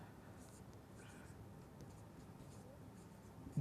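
Pen writing out given values for a math problem, a faint continuous scratching stroke, quiet and close under a steady room hiss, with no one talking.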